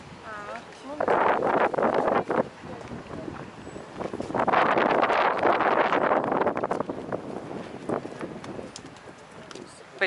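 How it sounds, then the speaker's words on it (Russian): Strong gusty wind buffets the microphone outdoors beside a lake, roaring in loud surges with brief lulls, while a person talks over it. "Ух, какой ветер сегодня."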